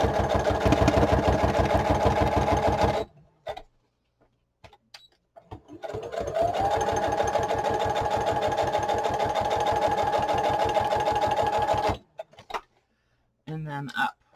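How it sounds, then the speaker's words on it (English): A sewing machine stitches down the edge of a pocket on a junk journal piece in bursts: a steady run of rapid needle strokes, a pause with light handling, another long even run, then a short final burst. "then I want to make sure I catch the edge of this pocket, spin it around, and then stitch down this side"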